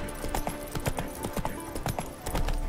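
Roach the horse galloping in The Witcher 3 video game: quick, rhythmic hoofbeats clopping repeatedly and fairly close over a soft background, with a brief faint voice-like sound.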